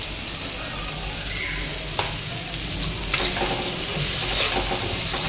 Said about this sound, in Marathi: असा कांदा लाल होईपर्यंत तळायचा चांगला.